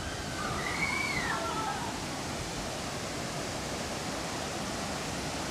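Water splashes and rushes steadily at a Disneyland ride splash zone, a loud, close broadband wash. A brief whistle-like tone rises and falls over it near the start.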